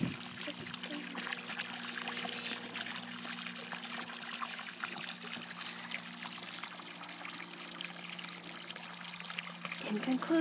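Floodwater rushing and spilling over into a newly forming channel, a steady broadband flow close by with a low hum underneath throughout.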